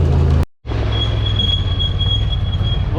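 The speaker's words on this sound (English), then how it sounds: "Listen to the brakes." Brakes squealing on a side-by-side vehicle during a ride, a thin sustained high whine held steadily over loud rumbling engine and road noise after a brief dropout.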